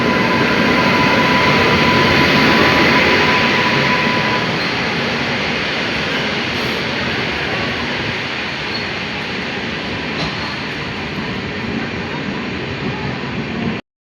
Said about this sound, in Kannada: ಟ್ರೈನ್ ಇನ್ನೇನು ಕೆಲವು ಕ್ಷಣದಲ್ಲಿ 2 ಮಿನಿಟಲ್ಲಿ ಅರೈವಲ್ ರಾಯಚೂರು ಪ್ಲಾಟ್ಫಾರ್ಮ್ ನಂಬರ್ 2.